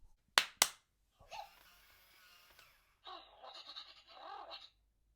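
Two sharp hand claps close to a Wowwee Dog-E robot dog, followed by the toy's electronic bleating and whirring noises in a quiet room.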